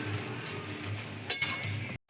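Chal kumro (ash gourd) greens cooked with poppy seed and mustard, stirred in a pan: soft steady sizzle with a faint scrape and one light clink of the spatula on metal.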